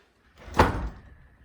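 A door in an abandoned house swings open with a single dull knock and scrape, close and fairly loud, fading into a brief rattle with no voices.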